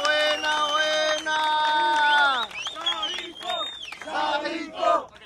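Crowd at a freestyle rap battle event loudly cheering and shouting in unison with scattered clapping, voices chanting and yelling close by in rhythmic bursts.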